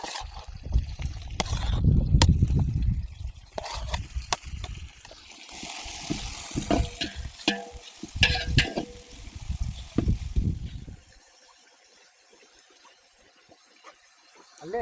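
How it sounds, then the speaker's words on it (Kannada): Tomato masala for village-style chicken dum biryani fries over an open wood fire, with wet splattering, bubbling and stirring scrapes coming in irregular bursts that fade to a quiet simmer near the end. "ಟೊಮ್ಯಾಟೊ ಮಸಾಲೆ ತಗೋಪ್ಪ, ಬಿರಿಯಾನಿ ಒಗ್ಗರ್ನಿದೆ"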